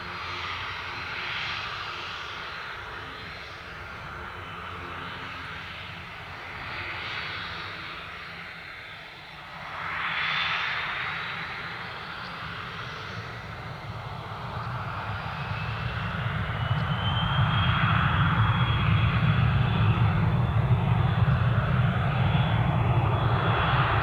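A business jet takes off from runway 8 right at Spirit of St. Louis Airport, its engine roar building steadily over the runway to a loud, sustained rumble with a rising whine. No voices are heard.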